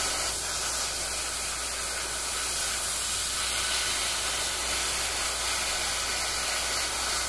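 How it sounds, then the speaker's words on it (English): A steady airbrush hisses as it sprays paint onto a Space Marine miniature, running continuously and close for the whole stretch with no talking. "with the airbrush, with the trigger. Tiny hits of color."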